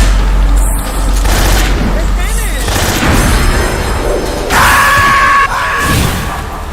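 Gunfire in Metal Gear Solid 3, heard as a loud, dense run of shots and booms that fills the whole stretch, with harsh bursts and some screaming mixed in.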